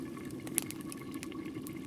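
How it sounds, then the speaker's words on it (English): Chanterelle mushroom stew simmering over an open fire, a steady low bubbling and watery churn with faint crackle and one small pop, close and continuous with no voices. "So come sit by the fire with us while the stew is boiling."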